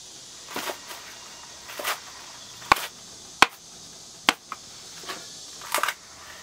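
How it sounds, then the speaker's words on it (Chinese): A knife cuts napa cabbage leaves away from the stems, producing a handful of sharp, separate chopping strikes at irregular intervals over a quiet background. "把白菜叶和白菜帮分开"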